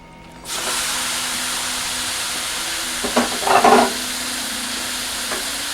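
Meat sizzles steadily in a frying pan for McCormick mild chili, a constant close hiss that swells with a few louder bursts of stirring and spattering midway, no talking.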